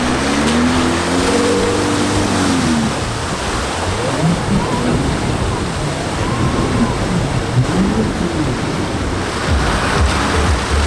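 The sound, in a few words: vehicle driving through water splashing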